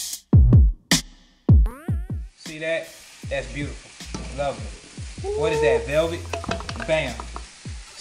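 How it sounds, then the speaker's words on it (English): Garlic dropped into a hot pan already holding peppers and tomato paste for spaghetti sauce, a few sharp clanks and knocks, then a bright sizzle rising underneath, no talk. "now we're gonna add our garlic"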